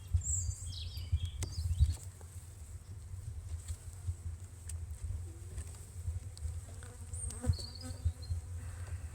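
Honeybees in an open hive on a warm day, a low steady buzzing drone with occasional individual bees passing closer, continuous throughout with faint bird chirps far off.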